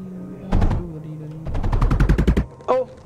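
Shooting in the video game Mindustry: a few sharp shots, then a fast rattling burst of about a dozen evenly spaced rounds, close and loud, with one more shot at the end.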